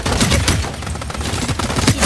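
Rapid gunfire from the video game Strinova, dense bursts of shots in quick succession filling the short stretch, loud and close.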